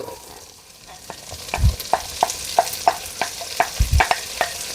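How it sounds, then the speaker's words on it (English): Leeks fry in a pan over medium to medium-low heat, a soft sizzle joined by a series of sharp scraping stirs and a couple of heavier clunks against the pan, close and without talk. "we're going to go ahead and put in our leeks"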